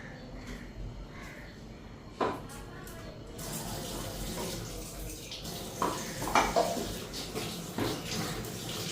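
A metal wok clanks a few times against a stove while water runs steadily in the background.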